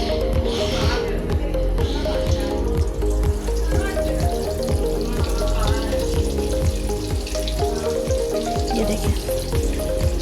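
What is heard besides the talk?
keema samosas deep-frying in hot oil in a wok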